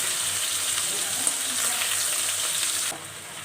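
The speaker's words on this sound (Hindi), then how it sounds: "तो अब मैं इसमें हरी मिर्चों का पेस्ट ऐड कर दूंगी और अच्छी तरह से मिक्स" Green chilli paste sizzles steadily in a pan with sautéed garlic and ginger while being stirred, a dense continuous frying hiss that drops slightly near the end.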